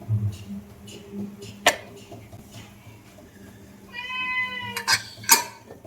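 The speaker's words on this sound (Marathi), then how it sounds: "संतोष त्यांना जेवायला घालतायत मांजरांना" Cats being fed in a home kitchen; one gives a drawn-out meow amid clinking dishes and scattered sharp knocks, with faint voices nearby.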